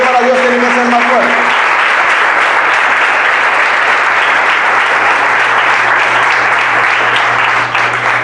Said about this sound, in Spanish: Oh, vamos, ese aplauso es para Dios, tiene que ser más fuerte.